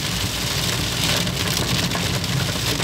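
Heavy rain pours down in a dense, constant hiss of drops hitting surfaces, loud and close, with no talking over it.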